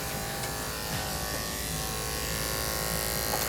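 Electric clippers buzz steadily at close range while shaving a dog's ears short, a continuous mechanical hum with brief shifts in tone as the blade moves through fur.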